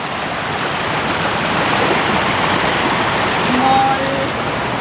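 A small waterfall pours in a continuous broadband rush, loud and close, steady throughout with a faint tonal chirp briefly over the noise.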